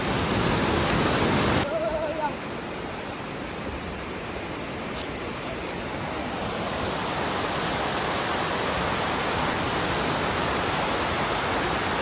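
A waterfall pours in a continuous, dense hiss of falling water, loud and close throughout with a brief sharper section at the start.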